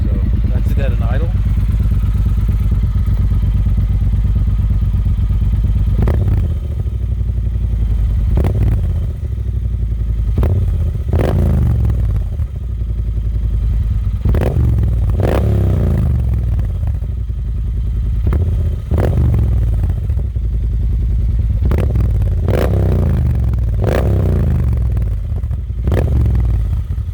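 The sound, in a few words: 2018 Triumph Speedmaster motorcycle with DNK tune idling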